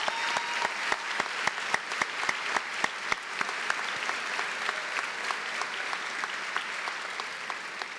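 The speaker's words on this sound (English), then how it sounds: "A big round of applause for our retiring staff." At a 2019 commencement, an audience gives steady applause for retiring staff: a broad, even roar of many hands, with distinct crisp claps from nearby people popping out regularly above the rest.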